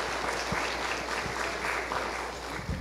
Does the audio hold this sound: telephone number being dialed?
no